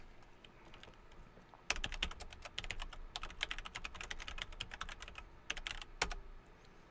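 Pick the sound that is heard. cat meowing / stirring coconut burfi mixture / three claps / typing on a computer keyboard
typing on a computer keyboard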